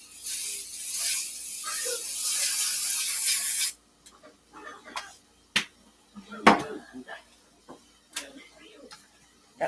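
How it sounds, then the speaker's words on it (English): A can of cooking spray hisses in one steady burst of about four seconds while breakfast is made, followed by quieter kitchen clatter and handling sounds. "I'm going to go ahead and spray here"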